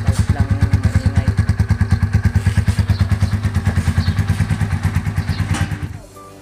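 A clutch-type Motorstar motorcycle engine runs up close with a loud, rapid, even thumping beat and mechanical clatter, then cuts out near the end.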